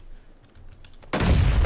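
Gunfire in PlayerUnknown's Battlegrounds: quiet scattered clicks give way to a sudden loud, sustained burst of shots and blast that carries on to the end.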